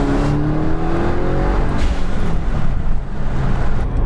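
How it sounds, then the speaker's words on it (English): Subaru WRX turbo engine under hard acceleration, loud and close, a steady roar with a breathy blow-off valve whoosh and rising whine, no talking. "The blow-off valve sounds different when I'm really on it."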